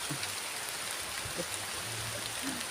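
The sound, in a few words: rain starting to fall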